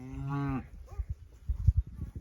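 A cow on a farm gives one clear, loud moo at the start while cattle are being moved to a hillside paddock. Scattered hoof thumps and low rumbling noises follow.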